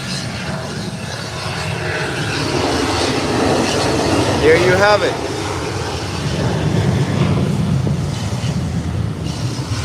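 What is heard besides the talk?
aircraft engines during takeoff at an airport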